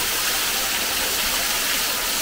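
Waterfall at the Natura Treescape Resort lagoon in Wisconsin Dells, heard as a steady, loud broadband rush of falling water that continues unbroken from start to finish with no voices.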